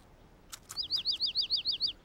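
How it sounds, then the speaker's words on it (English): A cartoon bird in a Caillou episode chirps a quick run of about ten bright, evenly spaced tweets, close and clear over a quiet background, preceded by a couple of soft taps. "Caillou was startled and excited to hear the bird chirp."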